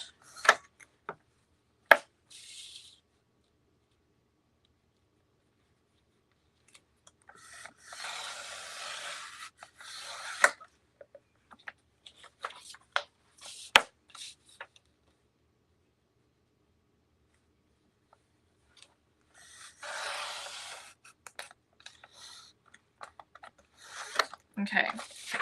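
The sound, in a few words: cutting out a craft paper design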